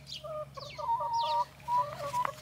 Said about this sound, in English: Here's some of our chickens.